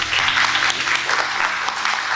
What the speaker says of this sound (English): A mighty hand clap for our God.